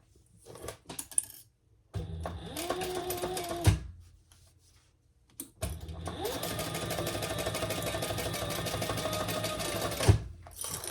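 Close and loud, a sewing machine stitches a seam on a crossbody bag in two long runs of rapid, even whirring, separated by a pause with small clicks and knocks.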